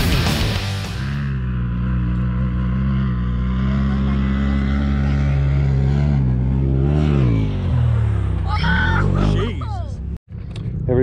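Polaris RZR turbo side-by-sides drive on sand at Sand Hollow, engines droning loud and near, then rising and falling as they rev toward jumps, with a sharp cut near the end.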